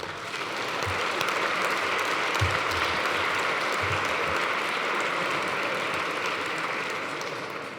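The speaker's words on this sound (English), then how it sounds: "please help me thank our judges with a nice round of applause" A large audience at an awards and hall of fame celebration gives the judges a sustained round of applause, steady and dense for the whole stretch, swelling and easing slightly toward the end.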